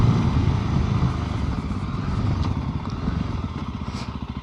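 A Voge 300 Rally motorcycle fitted with a rear sprocket two teeth smaller, its single-cylinder engine running steadily and loudly up close as the bike rides, with a throbbing rhythmic exhaust pulse throughout.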